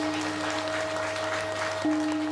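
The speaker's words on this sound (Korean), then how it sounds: "큰 박수 한번 부탁드립니다" Applause from an audience at a Buddhist temple Dharma assembly follows a Korean traditional music ensemble's performance. It is a steady, fairly faint wash of clapping over a constant electrical hum, with no voices.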